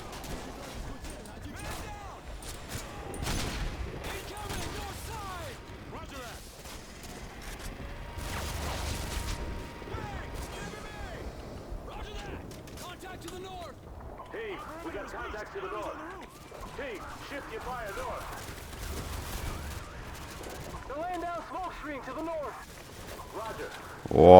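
Rifle fire in the video game Call of Duty: Modern Warfare 2, scattered shots and bursts mixed with mechanical clatter and crashes, heard under someone talking throughout.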